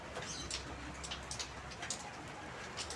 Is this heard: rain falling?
yes